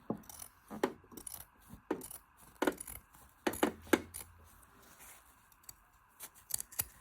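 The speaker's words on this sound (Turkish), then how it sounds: "Benim şöyle metal ıı, makasım var. Bu iyi kesiyor." Metal scissors snip through fabric while a makeup bag is sewn at home, giving a series of short, crisp cutting clicks and rustles in uneven bursts, close and moderately loud, with no talking.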